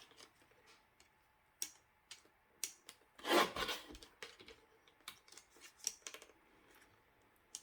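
Scissors cutting out paper circles for a layout, with quiet close snips and ticks, one longer rasping cut in the middle and scattered clicks around it.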